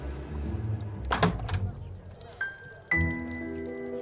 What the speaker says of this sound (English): Come in, Inspector Baines. The door's open.